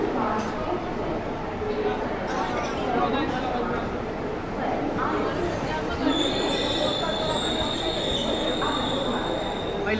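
Sainagar Shirdi-Kalka Express rumbling steadily along the rails, with a continuous broadband roar and a high wheel squeal entering partway through, while people talk faintly inside the coach.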